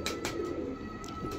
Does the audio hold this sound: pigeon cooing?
yes